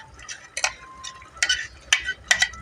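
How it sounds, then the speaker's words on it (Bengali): Ground spice paste tipped into hot oil, for paneer butter masala, spits and sizzles in short, sharp bursts with brief quieter gaps between them, close by with no voices. "তেলটা গরম হয়ে গেছে, এবার বেটে রাখা মশলাটা দিয়ে দিলাম তেলের মধ্যে"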